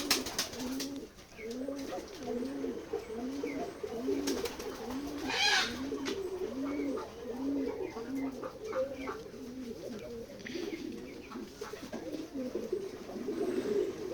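Pigeons cooing on a pigeon farm in Jessore, Bangladesh, a near repeating rhythmic coo pattern running steadily throughout, with a brief higher bird call midway and a voice talking over it.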